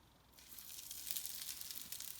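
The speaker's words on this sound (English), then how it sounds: "Sizzling sound is also a sign of confidence that these are ready." Potato keema cutlets are added to hot oil and sizzle at once, a steady hissing crackle that swells after a quiet start and carries on close and unbroken, with no talking.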